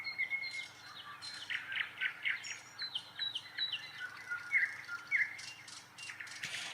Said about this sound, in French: À écouter les oiseaux dans les arbres